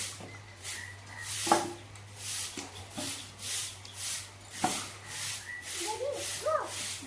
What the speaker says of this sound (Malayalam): ഇവിടെ അടിച്ചു വരട്ടെ